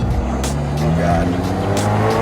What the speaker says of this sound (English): Rev a little higher.